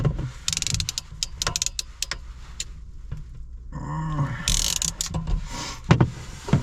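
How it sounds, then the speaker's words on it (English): A crimping tool squeezes a wire connector during a cold-weather campsite repair, giving close metallic ratcheting clicks and squeaks in short bursts, with handling rustle between them. "Just re-crimping it."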